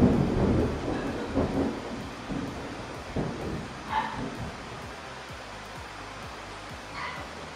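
Rain falls steadily while thunder rumbles, with a heavier roll at the start and softer grumbles later, over a constant hiss of rainfall.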